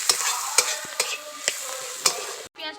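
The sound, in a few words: onions frying lightly in a pan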